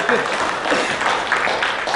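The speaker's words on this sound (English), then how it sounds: "A round of applause. I think we should keep clapping for the winners." An audience claps for award winners at a government awards ceremony, FIPS 2014. The round of applause is full and steady, fairly close and loud, and lasts a couple of seconds.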